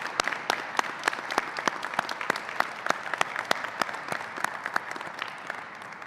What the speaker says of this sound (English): let's give a round of applause to all of our healthcare workers